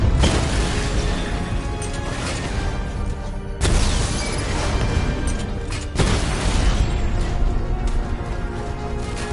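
Three heavy explosive blasts in Batman: Arkham Knight as drones are destroyed, each a loud boom with a long crashing, debris-filled tail, arriving at roughly three-second intervals amid dense game noise.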